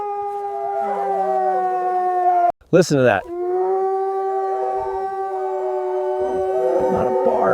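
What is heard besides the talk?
Alaskan Malamute dogs howling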